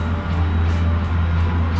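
A loud, steady low rumble of a train running at speed, with a droning hum and no voices.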